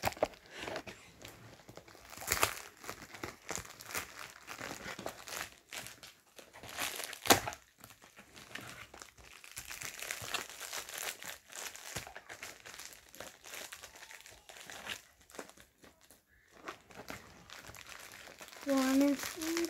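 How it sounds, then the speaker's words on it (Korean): A package is torn open by hand, with crinkling and tearing of wrapping in irregular close bursts over about twenty seconds, some louder rips among softer rustles, and a voice briefly heard near the end. "뜯어보겠습니다."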